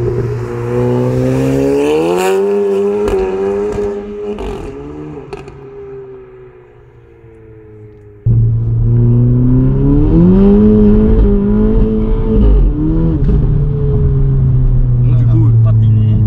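A 350 hp Stage 3 VW Polo GTI with a Milltek sport exhaust launches from a standstill, its engine revving loud and close with rising harmonics, easing off, then surging again as it pulls hard through the gears, while someone talks over it.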